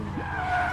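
A car drifts with its tires skidding, a short, close squeal of rubber over engine noise, lasting under a second.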